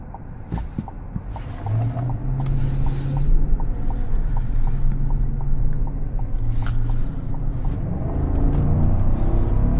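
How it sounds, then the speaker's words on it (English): A deep, rumbling V8 engine and exhaust of a 2025 Chevrolet Tahoe High Country drone up close, swelling slightly as the throttle opens, with a low burbling note throughout. "The V8 sound, the exhaust and everything, it just sounds so relaxing."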